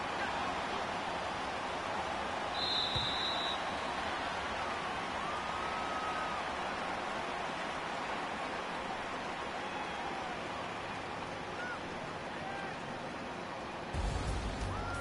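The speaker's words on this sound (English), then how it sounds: "Well, Charles, the forecast called for rain throughout the entire game, and we got rain throughout the entire game" Rain falls throughout a PS4 American football video game, a steady, soft hiss of rain ambience that stays even and fairly quiet for the whole stretch, with faint crowd or broadcast sounds underneath.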